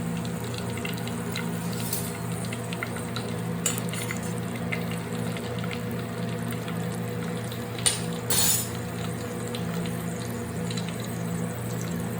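Coconut pieces and chili fry in a pan with steady, continuous sizzling and crackling, a constant close hiss for the whole stretch with one brief louder burst near the end and no talk.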